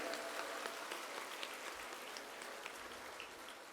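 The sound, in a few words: audience applause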